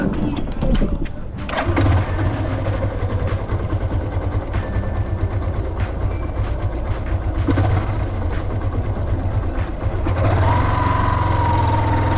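A boat engine at Chеepunkal near Kumarakom runs with a steady low, knocking rumble throughout, loud and close, with brief talk and knocks over it and a rising whine near the end.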